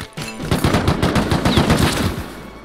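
Rapid automatic gunfire in the survival video game Rust, loud, close bursts of regular shots continuing for a few seconds, with no talk over it.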